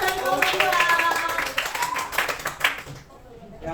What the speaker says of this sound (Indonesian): Kita beri aplaus dari kelompok